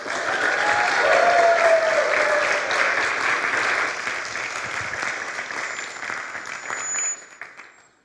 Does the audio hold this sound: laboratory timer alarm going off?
no